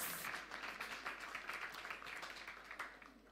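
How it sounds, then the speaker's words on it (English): A church audience claps in a quiet, distant round of applause, a dense patter of many hands that holds steady and then tapers off, heard alone without talk. "Give them a round of applause."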